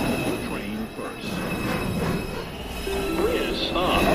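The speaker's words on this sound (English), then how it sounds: "Downtown, express 2, train. Approaching the station, please stand away from the platform edge." An NYC subway downtown express 2 train pulls into the Lincoln Center station with loud, continuous rumbling and wheel squeal, while a muffled platform announcement plays over the noise.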